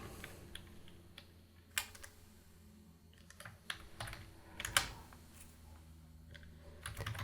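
Typing on a computer keyboard, quiet close clicks in short irregular bursts with a few louder key strikes and pauses between, no talking.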